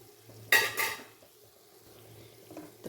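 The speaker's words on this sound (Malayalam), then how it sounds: "ഇട്ടിട്ട് നന്നായി അതിനെ ഇളക്കി യോജിപ്പിക്കുക" Clam meat masala with chili powder and fennel powder being stirred in a pan: a short burst of scraping and stirring near the start, then a low, quiet background hum.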